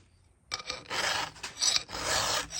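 A hand file rasps across a chainsaw chain's cutter teeth in close, crisp back-and-forth strokes. They start after a brief quiet moment and carry on steadily.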